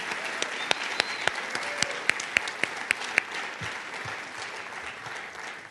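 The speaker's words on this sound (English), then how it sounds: "Can we have a round of applause for all the people that have helped them on their journey?" Crowd applause at a Boys & Girls Clubs youth awards evening, steady and moderately close, punctuated by a series of sharp, distinct individual claps standing out in the first few seconds before settling into an even patter.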